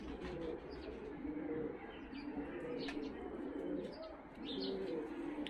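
Fighting pigeons coo in low, repeated throaty rolls in a dovecote in Tbilisi, Georgia, several birds overlapping at moderate distance with faint chirps and someone speaking softly.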